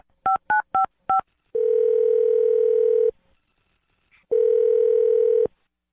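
Telephone dialing: four quick touch-tone beeps, then a long steady ringback tone, a pause of silence, and a second long ring tone, clear and close, no voices.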